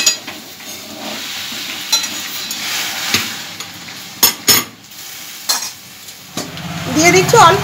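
Boiled jute leaves added to oil with fried garlic and chilli, sizzling steadily while a utensil scrapes and stirs the pan, with several sharp clinks of metal against the pot and a brief lull near the end.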